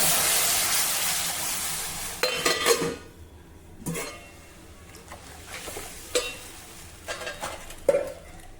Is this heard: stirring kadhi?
yes